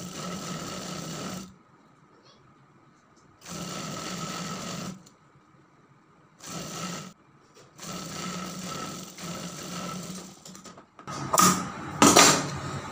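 Sewing machine stitching a double-folded sleeve strip, running in several loud bursts separated by quiet pauses, ending with sharper rattling handling noise.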